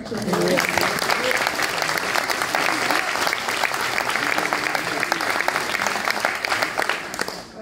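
Sustained applause from an audience at a political public meeting, loud and dense with steady clapping throughout, tapering slightly at the very end.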